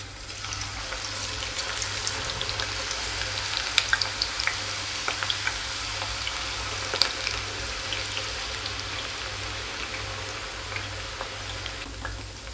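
A steady, close crackling sizzle of tapioca chips frying in hot oil over a medium flame continues throughout, with scattered sharp pops and a low hum underneath.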